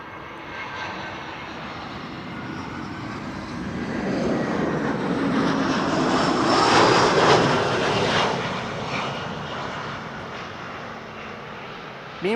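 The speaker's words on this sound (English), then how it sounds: "Air Arabia is coming this way and is going to be landing before Turkish is" An Air Arabia airliner approaching to land at Amsterdam Schiphol, a steady broad engine roar that swells as it passes nearest and then slowly fades, heard outdoors from the airport side.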